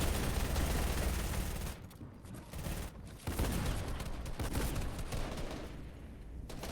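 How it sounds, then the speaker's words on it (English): Repeated gunshots in a competitive trios video game match, a dense, continuous barrage of rapid overlapping shots, loud and sustained with a brief lull midway before the firing resumes. "We hear shot after shot above Lasix's head."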